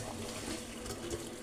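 Steady gush of water pouring nearby as cooked spaghetti noodles are drained, a continuous splashing rush with no talk.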